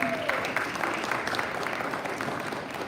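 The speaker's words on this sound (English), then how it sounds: "Give a round of applause to the committee." Members at a Rotary club meeting in Norman give a committee a round of applause, with continuous moderate clapping that stays dense and even from start to finish.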